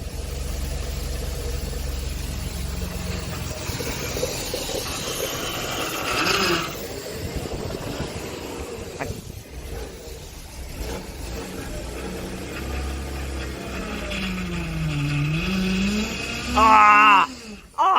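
A BMW engine idles with a steady low drone while air is bled from the power steering system, the pump groaning and whining in rising and falling sweeps as the wheel is turned, with a short louder burst near the end.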